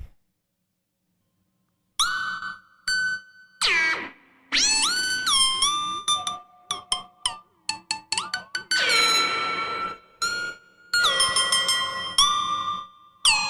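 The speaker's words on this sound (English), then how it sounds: "This is the sound of the mushroom. I'm going to play it right now." Electronic squeaky whistling tones from a mushroom's sonified electrical signals, in irregular bursts, gliding and stepping in pitch with sharp starts and echoing tails, after a short silence.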